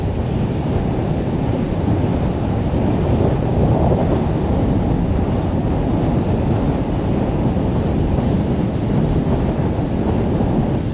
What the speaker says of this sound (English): Absolutely brutal wind.